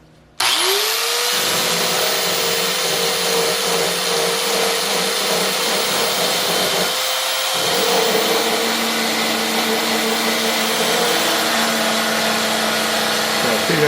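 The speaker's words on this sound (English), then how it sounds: "sand those spot welds until they get so thin there's no strength to them" A power sander grinds steadily through spot welds on the floor pan of a Mercedes W108, a loud continuous whine that dips briefly partway through before running on.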